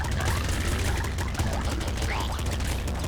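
Dense, continuous gunfire and explosive blasts from a shot barrel in the PC game Nuclear Throne, loud and sustained throughout without a break.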